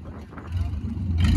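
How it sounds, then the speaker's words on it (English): Close traffic rumbles and swells, a low engine drone growing louder as a vehicle passes nearby. "there's so many loud cars around us"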